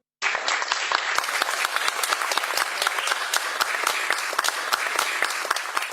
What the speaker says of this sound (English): let us applaud Isha and the entire retail and consumer product teams